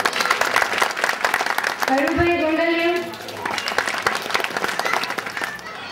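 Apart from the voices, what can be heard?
audience applause welcoming a guest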